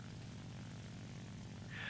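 Engine of a J7W1 Shinden propeller fighter in War Thunder, a low steady droning hum with a brief higher whine at the end, faint and continuous.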